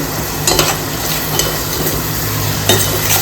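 Chili powder is sautéed for a pomfret fish curry, with a steady frying sizzle in the pan and several sharp scrapes and clinks from the stirring spoon. No one speaks.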